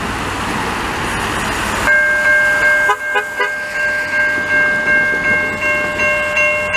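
A CN freight train in Montreal's St. Henri borough sounds its horn in long, loud multi-tone blasts from about two seconds on, over rumbling rail noise and a clattering passing train.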